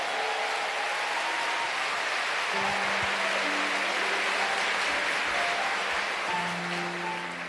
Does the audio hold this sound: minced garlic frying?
no